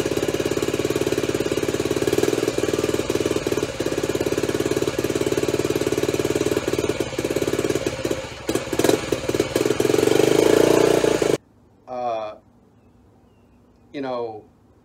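A Honda CT Trail 90 motorcycle engine idles with a misfire, a steady loud mechanical chug with irregular stumbles for about eleven seconds, then cuts off, followed by two short bursts of someone speaking.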